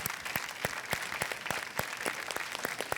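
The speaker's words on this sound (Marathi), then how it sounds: "त्यांच्यासाठी जोरदार टाळ्या" Audience applause for a performer on stage during a Marathi TV show, a steady wash of many hands clapping with sharp individual claps standing out, sustained and fairly loud throughout.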